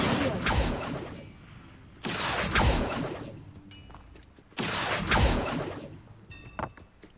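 Three loud, rushing fiery bursts from the Incendio fire spell in Hogwarts Legacy, each a broad whoosh lasting about two seconds, separated by quieter game ambience with faint chimes.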